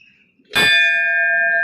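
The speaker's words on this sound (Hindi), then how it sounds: "तो आप घंटी की आवाज़ सुन पा रहे" A temple bell at a Hindu shrine to the Mother Goddess is struck once, ringing loud and close with a bright metallic clang that sustains steadily for over a second after a quiet start.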